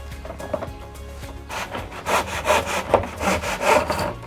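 A hand saw cuts through a light polyurethane foam cornice held in a mitre box, producing rapid rhythmic rasping strokes up close that start slowly and then speed up into steady back-and-forth sawing, with no one talking.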